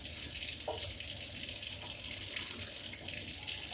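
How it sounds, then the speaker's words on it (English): Tap water runs steadily into an Instant Pot part to fill it with soapy water, a continuous close gush with slight splashing and no talking. "I get it full of soapy water."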